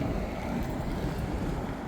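Strong wind gusts across an outdoor microphone, producing a loud, steady, rumbling roar that fills the whole short stretch with no pauses.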